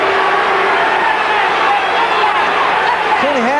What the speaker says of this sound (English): The crowd really comes alive now